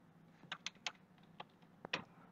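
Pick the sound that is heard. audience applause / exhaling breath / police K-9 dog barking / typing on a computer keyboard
typing on a computer keyboard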